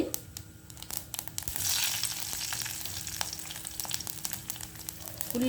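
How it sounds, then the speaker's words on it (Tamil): Mustard, fennel and fenugreek seeds sizzling and popping in hot oil, a steady crackling fry with brief louder spits and scattered pops throughout. "இதுக்கு வந்து கடுகு, பெருஞ்சீரகம், வெந்தயம் போட போகிறோம்."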